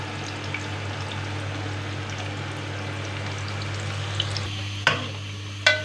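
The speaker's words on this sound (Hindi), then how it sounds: "अब हम इसको फ्राई करेंगे," Two medium onions frying in about a cup of oil in a pan give a steady low sizzle and bubbling, with a few brief stirring clatters near the end.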